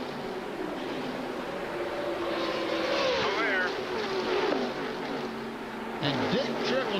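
NASCAR race cars at Talladega in a 1998 event, running inches apart near 190 mph, roaring in a continuous engine drone with pitch sweeps as cars pass, under steady commentator talk.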